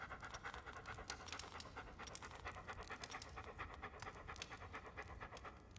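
A dog pants steadily and rapidly in the video game Hobo Tough Life, close and continuous, with quick rhythmic breaths over a low background hum.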